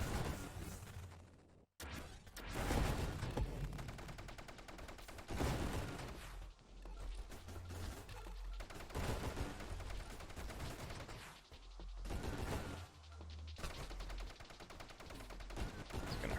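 Rapid burst-fire gunshots from the space shooter game Nova Drift, dense volleys of loud electronic shots with booming low impacts that keep going almost continuously, broken by a brief pause near the start and short dips.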